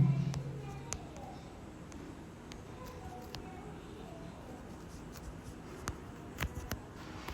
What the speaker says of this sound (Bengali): প্রথম ড্রাগন ফ্লাই দোজি লিখি আমি